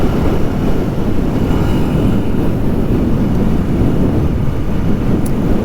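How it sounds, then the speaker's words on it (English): Royal Enfield Scram 411 single-cylinder motorcycle engine revving loudly and steadily in false neutral while riding, with wind rush and road noise throughout and no voices. "So that was the first false neutral that I've hit between 4th and 5th"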